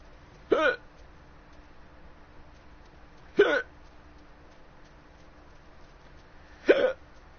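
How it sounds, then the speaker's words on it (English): Three sharp hiccups, evenly spaced about three seconds apart, each a short loud vocal burst against a quiet background. "Frickin' hiccups."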